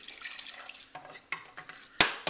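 A spoon stirs red chile sauce thinned with chicken broth in a pot, faint wet swishing and a few scrapes and clinks against the pan, with one sharper knock near the end.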